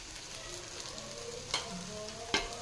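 Chicken garlic roast with curry leaves and lemon juice is stirred in a hot pan, a steady soft sizzle broken by two sharp scrapes of the spatula against the pan; no one speaks.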